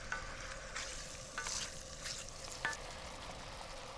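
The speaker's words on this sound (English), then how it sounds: "because the fennel and the squid both give out quite a bit of liquid, really this is about softly braising rather than frying" Squid and fennel soften in a pan, giving a gentle steady sizzle with a few soft stirring scrapes and small pops, close and quiet, without talk.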